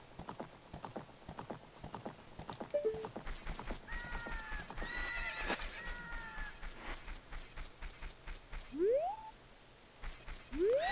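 Epona, the horse in the video game The Legend of Zelda: Ocarina of Time, heard as rapid rhythmic clip-clopping hooves at a gallop, with a high whinny in the middle and game chimes and tones over the top.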